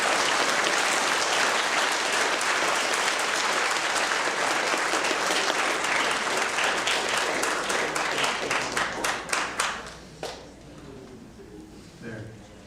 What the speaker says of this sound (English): Please join me in applauding these students.